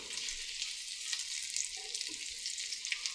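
Salmon cakes fry in a pan with a steady, bright sizzle, the hiss holding even and close throughout with faint crackles and pops scattered over it.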